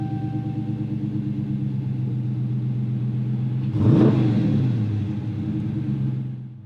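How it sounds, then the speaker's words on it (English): A 2017 Dodge Challenger R/T Super Track Pak is push-button started. A low idle rumble surges into a loud, close rev, then eases back toward idle. "to start it up, you just put your foot on the brake, hold it, and push this button."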